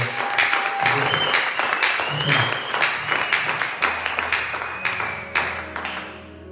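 A church congregation applauding and cheering the Lord, with dense sustained clapping, whoops and raised voices, mixed with music, filling the whole stretch at steady loudness.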